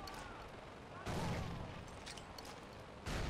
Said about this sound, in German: Oh, schön mal Granaten loswerden.